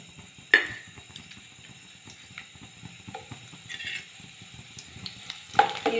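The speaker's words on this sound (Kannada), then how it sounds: "ಎಣ್ಣೆ ಕಾದಿದೆ. ಈರುಳ್ಳಿ ಹಾಕ್ಕೊಳ್ತಾ ಇದ್ದೀನಿ," Half an onion frying in heated oil, a quiet steady sizzle with occasional scraping stirs and sharp clinks of a utensil against the pan, close by and with no talking.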